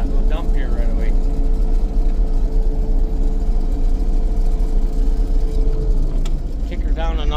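Claas Dominator 108sl combine harvester engine idles with a steady, loud low rumble throughout, close by, while someone talks over it.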